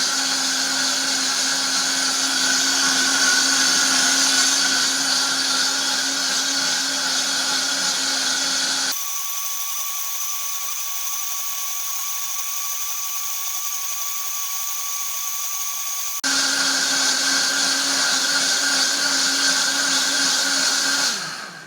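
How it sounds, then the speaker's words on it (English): A Venturist blender whirs through a smoothie in a long, loud, steady motor drone, dropping to a lighter, thinner whine for several seconds midway before returning to full power, with no talking. "One cool minute of blending, and we have ourselves a perfect smooth smoothie."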